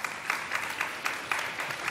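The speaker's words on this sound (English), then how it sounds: "Y'all can clap. It's perfectly fine to clap." Audience clapping at a men's discussion panel, a fairly faint, thin round of applause with a few sharper individual claps recurring in a loose rhythm, no talk over it.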